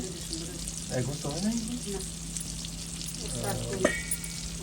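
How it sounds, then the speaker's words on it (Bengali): River fish sizzles and crackles as it fries in a pan, a steady close frying hiss with a few scraping stirs, while a voice talks softly in the background. "আমাদের মাছ উল্টে দিছে এক পিস ভাজা হয়ে গেছে এখন উল্টে দেওয়া হয়েছে"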